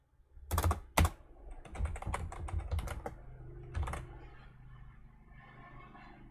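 Fingers tap out a title on a computer keyboard in a CAD program, a quick irregular burst of crisp key clicks with a few louder strokes, then fading to quiet room tone.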